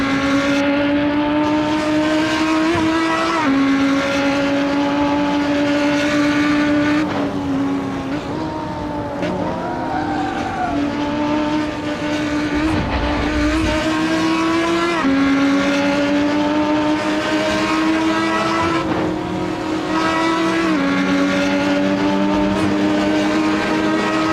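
A race car's engine in Assetto Corsa drives steadily and loud throughout. Its whining pitch climbs through the revs and drops sharply at each gear change, repeating in long pulls with no talk over it.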